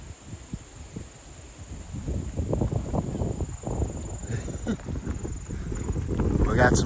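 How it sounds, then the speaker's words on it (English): Cows moving close by on the Appalachian Trail, with rustling and soft hoof-like thuds over a steady wind-like background; voices talk throughout. "We got some cows."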